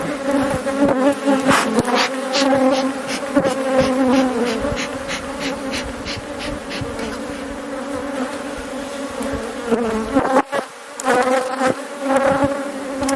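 Dense, steady buzzing of many honey bees close by at a calm hive, a continuous droning hum with individual wingbeats flickering through, no voices.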